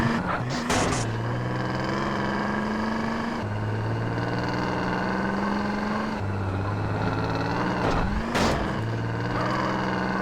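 A car engine revs hard in GTA San Andreas, climbing in pitch and dropping back several times as the gears shift, loud and continuous with a couple of brief impacts.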